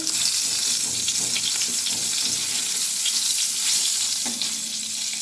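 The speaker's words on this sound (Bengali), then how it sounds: "তো বেগুনটা ভেজে নিই" Eggplant slices coated in salt and turmeric frying in a little oil: a continuous, close, even sizzle with faint crackles and a brief clink near the end, no voices.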